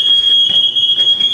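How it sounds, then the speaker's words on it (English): Fire alarm ringing in the video game Campus Hunter, a steady, piercing high electronic tone sounding loud and continuous for the whole stretch, with a faint pulsing undertone. "did you pull a fire alarm?"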